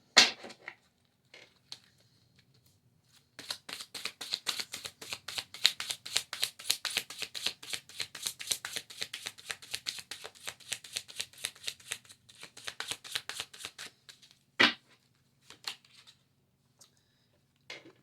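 Animal oracle cards shuffled by hand in a long run of rapid, papery riffles and flicks, close and fairly loud, with brief pauses and a few isolated snaps near the end.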